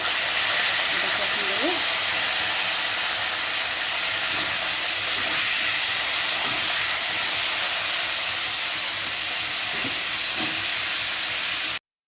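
Cauliflower coated with turmeric and salt frying in oil makes a constant loud hiss and crackle throughout, with a voice speaking faintly underneath.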